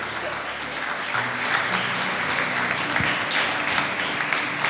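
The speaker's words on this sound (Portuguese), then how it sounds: "E as palmas louvem e adorem ao Senhor Jesus." Church congregation applauding steadily during a family worship service, a dense continuous wash of clapping that fills the room, with faint voices underneath.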